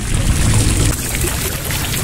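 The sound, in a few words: water flowing in a fountain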